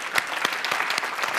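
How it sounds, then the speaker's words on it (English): Audience applause at a business talk on turning ideas into products, a brief burst of dense clapping from a crowd with a few sharp individual claps, fairly close. "Give those guys a round of applause."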